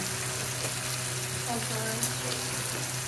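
Shrimp frying in a pan, seasoned with salt, turmeric, chili powder and ginger-garlic paste as the spices are stirred in, give a steady close sizzle with faint scraping from stirring, with no talking.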